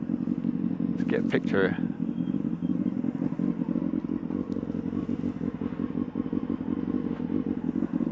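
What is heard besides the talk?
motorbike engine running rough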